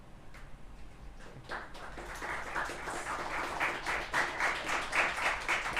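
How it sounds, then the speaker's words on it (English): Applause from a small group, starting with a few scattered claps and building over a few seconds into steady rhythmic clapping, moderately loud and close. "And we get an applause for that, though."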